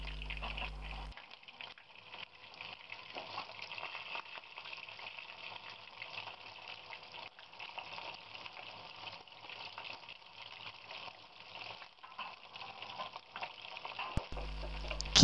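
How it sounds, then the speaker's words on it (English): Steady, faint sizzling and bubbling of bottle gourd pieces frying in hot oil continues throughout, with a brief clatter near the end. "Keep on frying till the pieces start turning golden brown in color."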